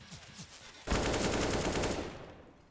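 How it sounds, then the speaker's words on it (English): AK rifle gunfire in a Counter-Strike match on Overpass, bursting in suddenly after a quiet moment as a loud, rapid automatic volley that runs for about a second before tapering off. "The AK of Hobbit swings forward, does damage to Travis."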